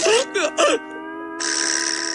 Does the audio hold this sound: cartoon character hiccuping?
yes